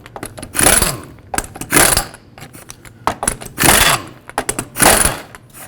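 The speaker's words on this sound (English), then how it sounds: "you'll have to remove these lug nut covers first with a 19mm socket" Lug nut covers on the steel wheels of a 2006-2011 Chevrolet HHR come off with a 19mm socket, making four loud bursts of rapid metallic ratcheting and clicking, close up and separated by short pauses.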